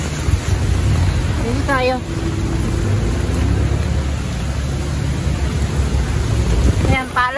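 Heavy rain with thunder pours steadily throughout as a loud, dense wash of noise, while voices speak over it near the start and end.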